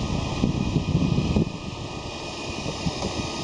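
A 1300 W uninterruptible power supply running under a 1 kW load, its cooling fan giving a steady whir with a faint electrical hum and a few soft clicks, close and alone without talk.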